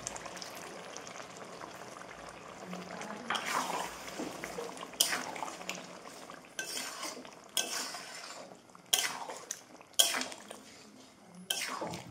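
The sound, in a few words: water from rinsing the pan poured into the cooking pot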